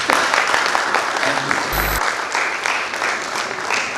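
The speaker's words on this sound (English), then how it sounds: "So, big applause for them." An audience applauds at a cyber security event, a dense, steady wash of clapping for several seconds, with a brief electronic tone cutting in midway.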